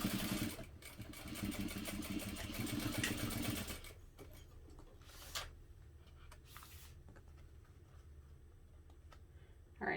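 A sewing machine stitching vinyl for a travel bag, running in a fast steady whir for about four seconds and then stopping, followed by quiet handling noises.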